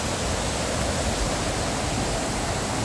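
Steady rushing water pours past a turning water wheel once used for grinding flint, a loud continuous broadband roar with no pauses and no voices.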